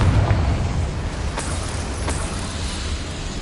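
A Confringo spell explosion in the Hogwarts Legacy video game, a loud booming blast with a rumbling tail and a couple of faint crackling pops as it dies away.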